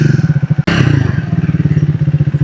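Motorcycle engine idling and chugging close by in a steady low throb as the bike turns around on a road through the Malshej Ghat, with a sharp bump or clatter partway through.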